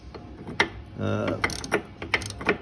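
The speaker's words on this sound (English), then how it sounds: "I can get this ratcheting socket in there. So it is coming out." A ratcheting socket backs out a bolt during a 1.25-inch body lift on a 2021 Jeep Wrangler JL. Close, quick bursts of metallic clicking come in uneven runs, with a brief louder mechanical whir partway through.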